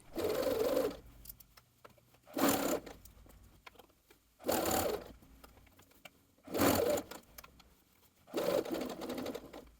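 A sewing machine joins fabric pieces in five separate bursts of stitching, each roughly a second long, with quiet pauses between them, close and steady.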